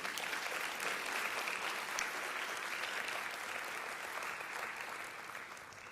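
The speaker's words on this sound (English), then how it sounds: "give them a huge round of applause for all they've done for you" A large graduation audience at a 12th grade ceremony gives teachers sustained applause, a continuous dense roar of many hands clapping at once, even and unbroken from start to finish.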